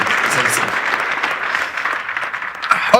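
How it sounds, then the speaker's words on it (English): Audience at a chairman's conversation event clapping steadily for a guest taking the stage, a dense, even applause throughout. "please help me with a round of applause to get this man to sit down."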